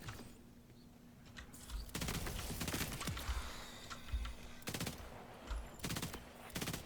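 Bursts of submachine gun fire from the Ricochet Darkbeast SMG in the video game Borderlands 4, several rapid volleys separated by short pauses, loud and close, with no voices.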